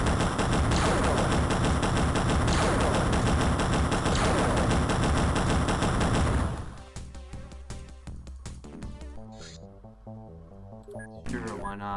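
Rapid gunfire from the video game XCOM rattles loud and dense for about six seconds, then gives way to quieter game sounds and clicks under faint background.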